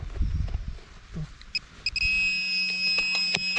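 Metal detector at an old manor site giving a sustained electronic tone after a few short chirps, steady and moderately loud, following faint rustling of ground being searched.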